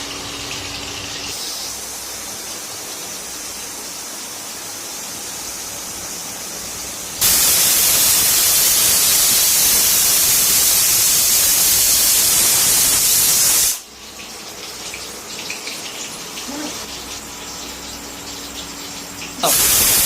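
A pressure cooker cooking daliya khichuri on an induction cooktop lets out a loud, sustained hissing whistle lasting several seconds, then drops back to a quieter steam rumble before a second whistle bursts in at the end.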